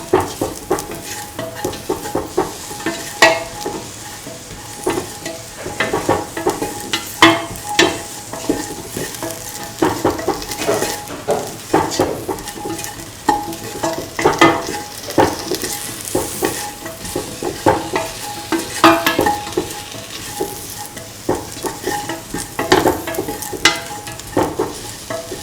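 Potato and ivy gourd fried rice stirred and tossed in a hot pan, a steady sizzle broken by repeated scraping strokes of the spatula in an uneven rhythm, close and fairly loud, with no talking.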